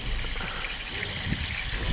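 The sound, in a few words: water flowing around sediment in a delta model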